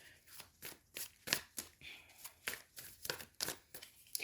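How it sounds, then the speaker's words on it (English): Soft, quick riffling and slapping of tarot cards being shuffled over and over in an irregular rhythm, close by and quiet. "So it's really making me shuffle here, Aquarius."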